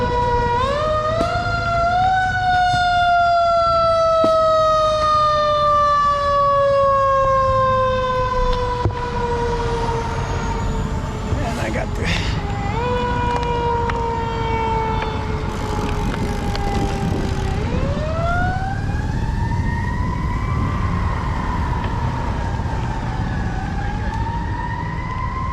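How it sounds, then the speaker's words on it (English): A City of Wilmington fire truck pulls out past a city cycling trail, its wailing siren loud and close, sliding down in pitch as it passes, then winding back up, with steady traffic noise underneath. "there's a fire truck coming out"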